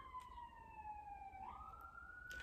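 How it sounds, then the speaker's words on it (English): A distant siren wails faintly, its pitch sliding down and then back up, heard alone over low background rumble. "I get really worried when I hear sirens and they just keep going and going and going"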